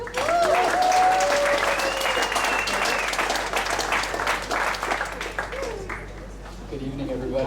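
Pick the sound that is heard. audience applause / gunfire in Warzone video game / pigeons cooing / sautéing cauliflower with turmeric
audience applause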